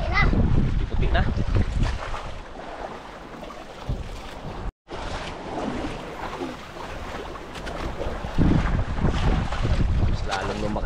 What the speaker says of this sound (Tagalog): Mas lalong lumakas ang hangin